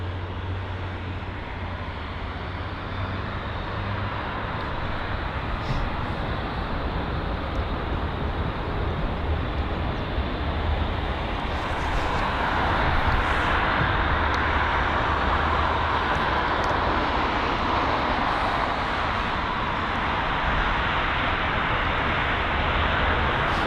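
A KLM Boeing 737-800 airliner taxiing toward runway 09 at London Heathrow, a steady broad engine roar that swells slightly partway through, continuous and moderately distant, with no talking.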